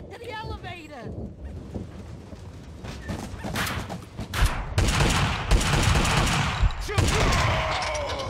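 Gunfire in the video game Max Payne 2 rings out in repeated loud bursts and rapid volleys, dense and close, with shouting voices mixed in among the shots.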